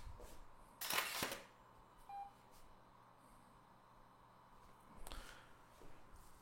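A Fuji GX680 medium-format camera fitted with a digital back fires its shutter in a studio, a sharp mechanical clack near the start and a second burst later, with faint room noise between.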